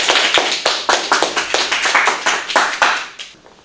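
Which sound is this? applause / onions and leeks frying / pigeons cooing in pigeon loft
applause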